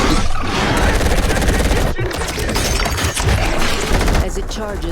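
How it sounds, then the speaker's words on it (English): Rapid rifle fire blasts at a charging creature in an action film battle, dense volleys of loud gunshots layered with booming impacts and a thick action score, one brief pause near the middle before the firing resumes. "As it charges, Dan fires."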